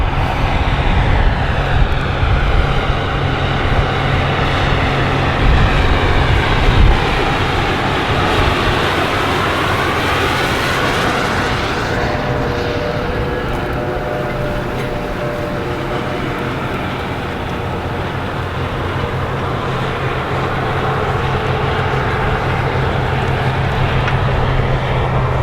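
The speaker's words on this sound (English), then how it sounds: "The John Deere 9RX 640 tractor was introduced in model year 2021" A John Deere 9RX 640 tractor works a field V-ripping, producing a loud, steady heavy-engine roar with a broad rumbling wash that holds constant throughout, shifting slightly in tone partway as it passes.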